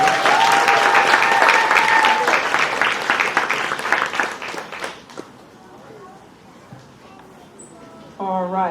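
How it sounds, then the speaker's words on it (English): Applause from a crowd at a charity run/walk event for kidney causes, filling the first few seconds loudly with dense clapping mixed with voices, then fading to quiet chatter before a louder voice returns. "let's give everyone a round of applause."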